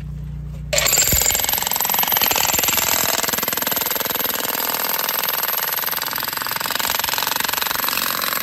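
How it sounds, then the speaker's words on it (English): A jackhammer breaking calcite geodes out of rock starts abruptly after a brief engine hum, then pounds on in a loud, rapid, continuous rattle close by. "Getting ready to get it out with the jackhammers."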